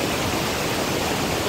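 Water flowing steadily through a gap between hills at Sonamuni jungle beach in Keonjhar, a continuous broadband rush like a stream or small waterfall, close and constant with no voices.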